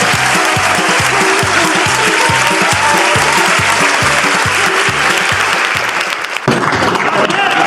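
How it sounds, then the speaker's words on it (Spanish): An audience claps, loud and dense, in a steady rhythmic stream of applause that runs for several seconds before briefly dipping and resuming. "¡Aplausos!"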